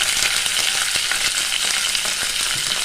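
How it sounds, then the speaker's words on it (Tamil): Mustard seeds, chana dal and curry leaves fry in hot oil for a tempering, giving a steady loud sizzle with faint crackles and pops throughout, no voices. "பாருங்கள், கடுகு வெடிச்சுக்கிடுச்சுங்க"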